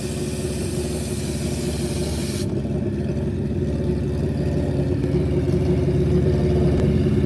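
Nitrous drag bike on DOT street tires at Rockingham Dragway, a loud steady engine roar with a hiss of spray sustained throughout, close and continuous with no talking.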